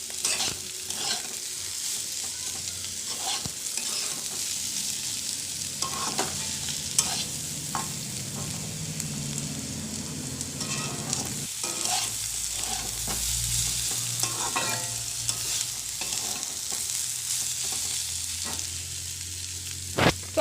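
Potatoes and onion fry in a pan with a continuous sizzle, broken by repeated scraping and stirring strokes of a spoon against the pan, close and fairly steady throughout with no talking.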